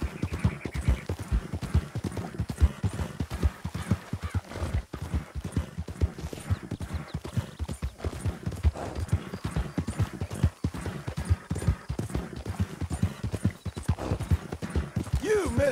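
Steady clip-clop of a horse's hooves in Red Dead Redemption 2, close and rhythmic, with a voice talking over the footsteps.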